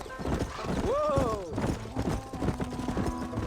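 Horse hooves clip-clop steadily while riding in Red Dead Redemption on the Switch, and a horse whinnies once partway through, with talking and game sound mixed in around the hoofbeats.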